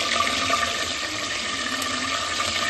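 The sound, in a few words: curry leaves sizzling in hot oil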